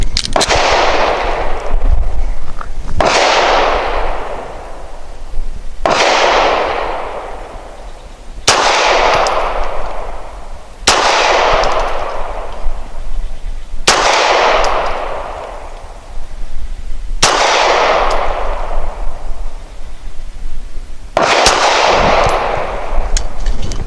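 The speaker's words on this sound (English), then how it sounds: "I'm going to be shooting at the left square, and I'm going to be using the Nosler 147 grain" A Springfield XDe 9mm pistol fires Nosler 147 grain rounds in eight loud, evenly spaced gunshots roughly three seconds apart, each with a ringing decay over steady outdoor background noise.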